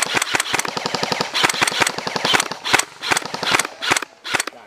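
Airsoft guns fire during an outdoor skirmish game, loud and close. Rapid bursts of sharp cracking shots come in uneven clusters, some fast like automatic fire, with no voices.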